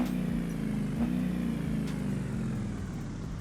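A diesel car engine idles steadily in the BeamNG driving game, a low, even rumble with a constant drone and no change in pitch throughout, fairly quiet and with no voices over it.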